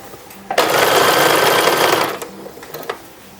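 A sewing machine stitches a tiny sleeve on a 1930s-1940s style toddler wrapper, running in one loud, steady burst for about a second and a half, then stopping with a few faint clicks and short mechanical sounds.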